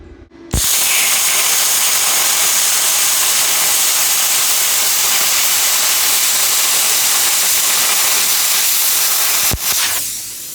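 A Tooliom TL-50C plasma cutter, run at about 16 to 20 amps, slices through 1/4 inch metal with a loud, steady, hissing roar that starts abruptly and holds for about nine seconds before cutting off.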